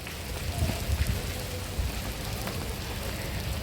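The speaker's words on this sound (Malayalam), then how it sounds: "ഇപ്പം മഴ പെയ്യുന്നു." Continuous rain patters steadily at Ramoji Film City, Hyderabad, with occasional heavier drops, a soft even hiss with no voices.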